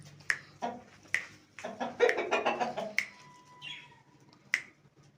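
Hens in a chicken coop give irregular clucks and short squawks, close by and fairly clear, with some sharp clicks among them and no speech.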